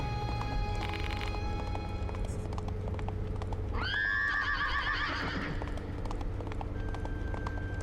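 In the video game Death Mark 2, a horse running in Tokyo whinnies loudly midway, a high rising neigh over a car's steady engine rumble, with scattered hoof clatter in the background.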